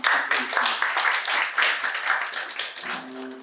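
Audience applause for a presenter at a fire-safety industry meeting, a steady dense clatter of many hands lasting throughout, with a voice speaking faintly near the end.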